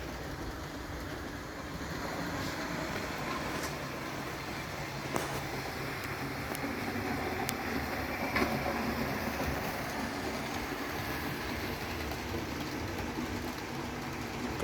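A Triang R54 CP model locomotive with R32 tender runs along a model railway track, a steady low rolling rumble with occasional faint clicks of wheels over rail joints, nearby and moderately quiet.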